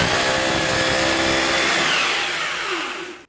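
A larger Parkside PBH 1500 D4 hammer drill runs in hammer-only mode against brick, a loud, dense continuous power-tool roar that holds steady and then spins down near the end, with no talk.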